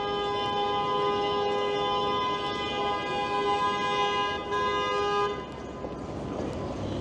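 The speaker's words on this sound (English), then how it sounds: "So, parade of honking going on." Car horns on an evening city street in Toronto's Financial District sound together as one long, steady, loud honking for about five seconds, then cut off and leave only street noise.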